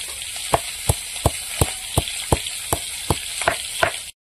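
Fish fries in oil with a steady loud sizzle, broken by regular sharp clicks of a spatula or utensil turning the pieces about every half second, close up, then cutting off abruptly at the end.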